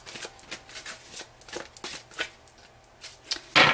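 Tarot cards being shuffled by hand to draw a single card, a run of soft, quick riffling bursts ending in a sharper snap of cards, close and fairly quiet with no talking.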